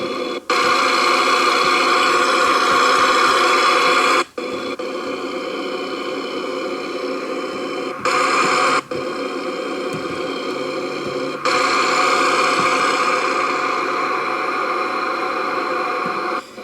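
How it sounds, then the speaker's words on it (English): Truck engine in the American Truck Simulator video game, a loud, steady droning hum with tonal whine that runs continuously and cuts out briefly a few times, with no voices. "it's really loud, this truck"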